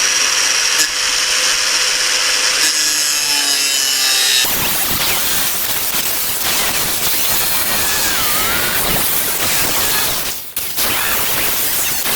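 A power tool cuts through parts on the base of a feed bin auger, first a steady high whine, then a loud, continuous harsh grinding and rasping, close and sustained with a brief dip near the end.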